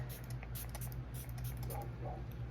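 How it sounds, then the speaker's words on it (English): Setting spray misted onto a face as the last step of a cosplay makeup routine, heard as a rapid series of short, soft hissing spritzes over a steady low hum. "So for my last step, I'll be using like the same setting spray"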